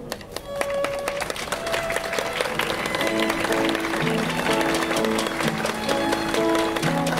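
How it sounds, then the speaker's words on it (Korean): Wedding guests clap continuously as the two mothers walk in together at a Korean wedding ceremony, a steady wash of applause running throughout with music tones and faint voices underneath. "어머님들 입장 마치실 때까지 더 큰 박수 부탁드리겠습니다"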